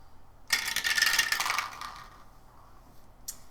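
Dice rattle and clatter across a tabletop during a tabletop game session, a bright, busy burst lasting about a second before fading, with a small click near the end.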